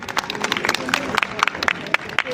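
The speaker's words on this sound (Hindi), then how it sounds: "Please give a huge round of applause for Roshni from BSc MLS." Applause breaks out for a student being introduced at a college fresher party, scattered claps and whoops layered over a lively crowd with background chatter.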